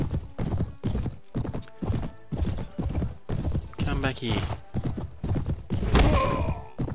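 Galloping horse hooves in Mount and Blade: Warband, a rapid rhythmic clip-clop charge with a neigh near the end, while someone speaks briefly over it.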